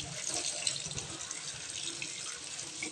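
Water pours steadily over young jackfruit pieces as they are rinsed before cooking, a continuous close splashing stream like a running tap, moderately loud with no talking.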